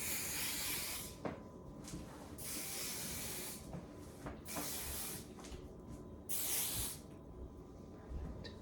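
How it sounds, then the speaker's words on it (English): Hairspray hisses from an aerosol can onto hair in several close, bursts of a few seconds each, separated by brief pauses and soft handling sounds. "so now I'm just gonna spray it"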